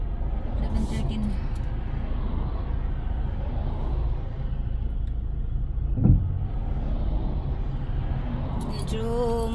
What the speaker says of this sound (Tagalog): Medyo maraming kotse, hirap tumawid.